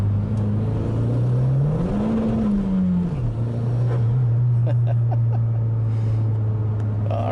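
A Mazdaspeed3 accelerating hard in second gear, a loud steady engine drone rising in pitch, briefly dipping at the shift, then holding strong, heard close from inside the car with no talking.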